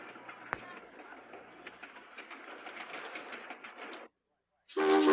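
A Key System A train runs on rails near Tower 2, a steady mid-level rolling rumble with clicks for about four seconds, then a brief silence and a sudden louder burst.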